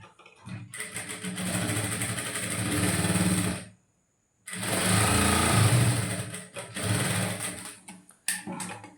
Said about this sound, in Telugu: ఇప్పుడు ఇక్కడ నుంచి మనము చిన్న కుట్టు కొట్టుకోవాలి